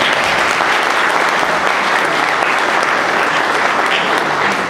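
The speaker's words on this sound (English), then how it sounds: "Let's acknowledge them all with a round of applause." Audience at a Calgary Skyview leadership candidates' forum gives the six debaters a round of applause, loud, dense and sustained clapping from a crowd throughout, with no speech on top.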